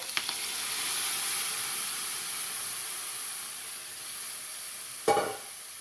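Mung beans sauté in a pan with a soft, steady sizzling hiss, and a single sharp clatter of a utensil near the end.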